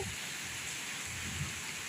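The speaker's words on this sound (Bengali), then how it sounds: "অবশেষে বৃষ্টি নেমেছে" Rain falling steadily during a storm, a soft even hiss of drops on surfaces throughout, fairly faint and unbroken, with no talking.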